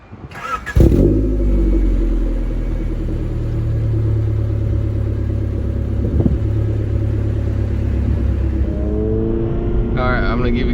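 A 1991 Honda CRX Si is started and driven, its engine note rising and falling through steady revs in a loud, continuous cabin drone with a brief blip near the end.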